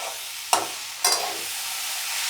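Dry samosa stuffing frying in a pan over a low steady sizzle, broken by two sharp, close scraping stirs of a spatula about half a second apart.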